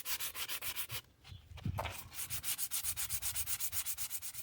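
Rhythmic back-and-forth sanding of a rusty old hatchet's handle with 100 grit sandpaper, steady close scratchy strokes with a brief pause near the start, then a quick regular run of strokes.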